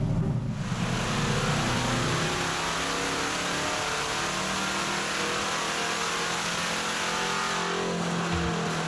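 C8 Corvette strapped to a dyno for a baseline run, its engine revving hard and continuously with a steady rising roar, close and loud.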